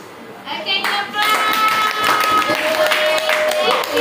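A classroom of students clapping, a dense, loud burst of hand claps that starts quickly and continues steadily for several seconds, with some children's voices mixed in.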